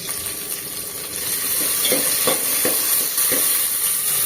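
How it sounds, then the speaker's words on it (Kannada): Garlic, thick-cut onion and curry leaves sizzle in hot oil as a tempering for fish sambar, a steady bright frying hiss that swells slightly louder after a second, with soft stirring scrapes near the pan. "ಇದನ್ನು ಒಗ್ಗರಣೆಗೆ ಹಾಕ್ಕೊಳ್ತೀನಿ"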